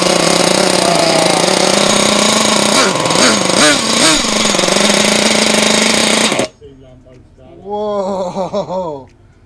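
A Losi LST XXL nitro RC truck engine runs loud and raspy at close range, revving in rising pulses before cutting out abruptly, followed by an excited voice.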